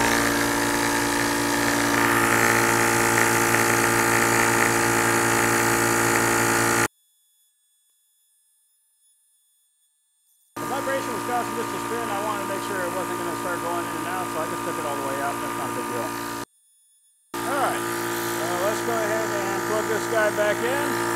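A CREWORKS electric PCP air compressor pump runs with a loud, steady mechanical drone and whining tones, stopping twice into silence before restarting, with chattering pulses in the later running stretches.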